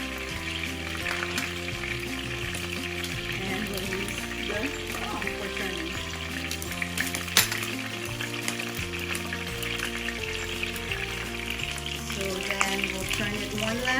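Chicken drumsticks for Kapampangan adobo fry in a pan and are turned with a spoon, giving a constant, moderate sizzle with a few soft knocks, all under steady background music.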